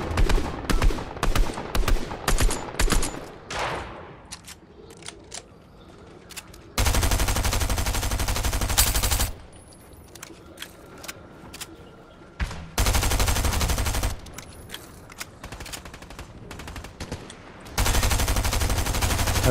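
Gunfire from weapons in the video game Fortnite: rapid bursts of single shots, then long sustained stretches of loud automatic fire separated by quieter gaps, close and without talk.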